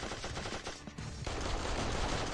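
Rapid automatic turret gunfire from the video game Major Mayhem 2, a dense, loud, continuous burst of shots that briefly thins around the one-second mark before resuming at full intensity.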